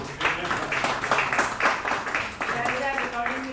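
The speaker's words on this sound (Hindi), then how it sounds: "बच्ची के लिए भी जोरदार तालियां" A group claps loudly for a young girl at a railway office yoga session, brisk uneven applause lasting a few seconds with a voice briefly audible near the end.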